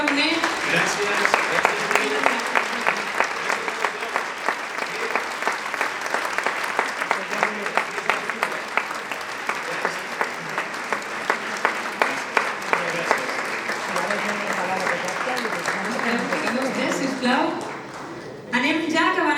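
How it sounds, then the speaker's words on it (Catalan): A long, strong round of applause for the herald at the proclamation of the 175th Candelera Fair, with dense clapping that sometimes takes on a rhythm. Voices are heard within it, and the clapping fades near the end. "Un fort aplaudiment per aquest pregoner."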